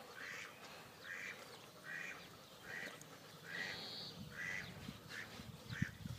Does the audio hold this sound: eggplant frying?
no